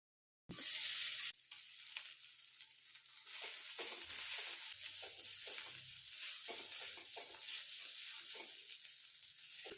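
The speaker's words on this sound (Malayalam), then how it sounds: "ഉള്ളിമുളക് മൂപ്പായിട്ടുണ്ട് കേട്ടോ" Onion and chillies frying in a pan for a papaya thoran, a loud close sizzle that starts suddenly, then settles into a steady hiss with occasional stirring scrapes, no voices.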